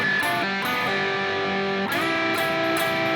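A short distorted electric guitar riff from a song, a few sustained notes sliding and changing pitch, loud and close with no voices.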